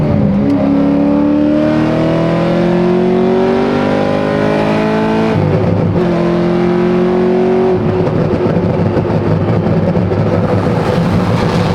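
Loud Corvette V8 engine revving hard in long rising sweeps, its tone climbing steadily, then dropping and climbing again, with a rough, booming exhaust note throughout and no talking.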